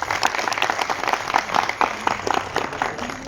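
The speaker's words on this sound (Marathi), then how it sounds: "एकदा जोरदार टाळ्या यांच्यासाठी वाजवा" An audience at an event with a film director gives a burst of loud, dense applause, many hands clapping together in a steady roar for a few seconds.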